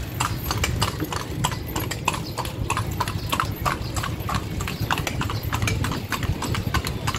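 A horse pulls a kalesa carriage through San Fernando, Pampanga, its hooves clip-clopping in a steady, close rhythm over a constant rumble of wheels and traffic.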